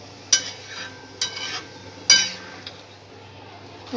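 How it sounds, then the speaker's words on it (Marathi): A spoon stirs basundi, sweetened thickened milk, in a metal pot, giving three or four sharp clinks against the pot at uneven intervals over a soft, faint background hiss. "हे अशीच हलवत राहायचं थोडा वेळ"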